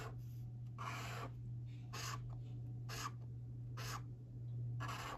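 An acrylic paint pen with a large nib drawn across paper in short strokes, about five soft scratchy swipes spaced roughly a second apart, close and quiet over a steady low electrical hum.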